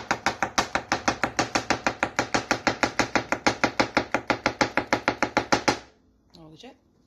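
A knife chops chicken into chunks on a cutting board in a fast, even rhythm of about thirty sharp, close knocks, then stops, and a voice speaks briefly.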